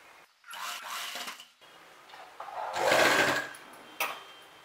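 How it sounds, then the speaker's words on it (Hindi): Sewing machine stitching fabric over buckram to form box pleats on a skirt, in short whirring bursts with brief pauses and a longer, louder run near the end. "यहाँ से सिलाई करके हम बॉक्स प्लेट बनाना शुरू करेंगे"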